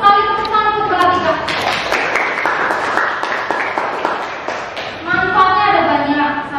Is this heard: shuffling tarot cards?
no